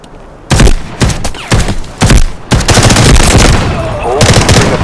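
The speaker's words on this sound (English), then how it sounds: "Prepare to open fire on enemy targets." Gunfire in the video game Delta Force, loud close bursts of automatic fire in several rapid volleys separated by brief pauses, with a faint voice in the background.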